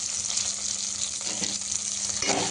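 Onions, garlic and dried red chillies fry in a pan with a steady, close hiss and crackle of hot oil, along with a brief scrape of stirring.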